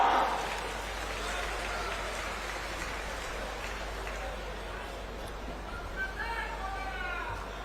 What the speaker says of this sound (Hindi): अब संबोधन के लिए सादर आमंत्रित करेंगे माननीय टीएस सिंहदेव जी, माननीय उप मुख्यमंत्री जी को। जोरदार तालियां।